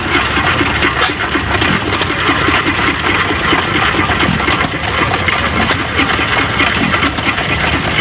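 An old hit and miss engine runs close by, its piston moving in and out in a busy, dense mechanical chatter that stays loud and continuous with no talking over it.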